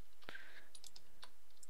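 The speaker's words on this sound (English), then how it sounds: "I keep right clicking." A computer mouse clicked during a survival games match on a computer: a crisp click followed by a few faint, quick clicks close to the microphone, with no talking.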